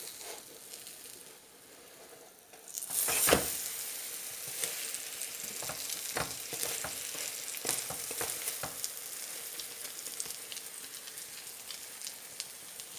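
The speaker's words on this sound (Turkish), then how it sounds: "Şimdi altı da kızarsın servis alacağız" Börek fries quietly in a pan, a faint sizzle dotted with scattered pops and crackles, with a brief louder burst near the start.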